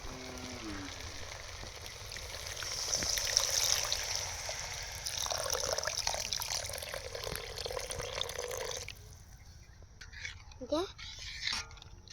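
Coconut milk and Amul milk pour into a simmering prawn malai curry gravy, a soft steady trickle and liquid splash that runs for several seconds before stopping, with a few quieter stirs and clinks afterward.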